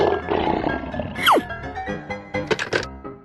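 A lion roars in a sequence of animal sound effects, a loud guttural burst followed by rough grunting pulses, alone without talk.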